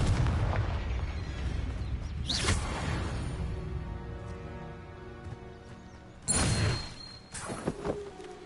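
A Confringo fire spell goes off in a video game with a broad, booming blast, followed later by a second loud burst, with a long rumbling tail between the two.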